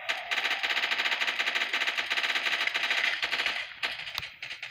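Pulse rifle in the Roblox game ZU firing long, rapid automatic bursts, loud and steady for several seconds before tapering off into a few scattered shots.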